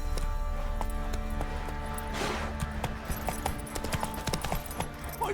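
Roach the horse in The Witcher 3 plodding along with a steady clip-clop of hooves, soft and close over a low ambient music bed, with a brief rustling swell in the middle.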